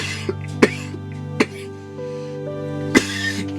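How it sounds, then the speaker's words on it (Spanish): Several coughs break out among a church congregation during a fervent Spanish-language deliverance prayer, sharp bursts scattered over a steady sustained musical drone, loud and close with a few fainter ones between. "tose, provoca la tos"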